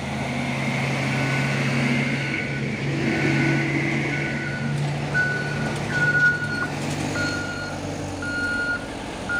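A bus engine rumbles steadily nearby with a repeating high beeping tone, heavy traffic noise around and no talk.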